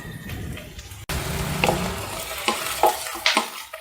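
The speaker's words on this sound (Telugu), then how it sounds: "ఇవన్నీ వేసుకుని గోల్డెన్ బ్రౌన్ కలర్ వచ్చేదాకా ఫ్రై చేసుకుందాం" Onions, green chillies and curry leaves frying in a pan, a steady close sizzle with scattered stirring scrapes and spatters, starting abruptly after a brief lower-level opening.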